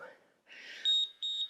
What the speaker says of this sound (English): Timer goes in a few seconds.